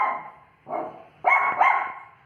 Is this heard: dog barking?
yes